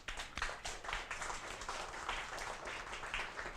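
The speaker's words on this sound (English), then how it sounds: "please make some applause for them" An audience at a Cloud Native Prague tech meetup applauds, a steady wash of many hands clapping heard at moderate distance and fairly soft, sustained throughout without a break.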